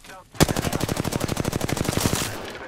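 Rapid automatic gunfire in the video game Apex Legends: a sustained burst of about thirty evenly spaced shots over two seconds, loud and close, trailing off at the end.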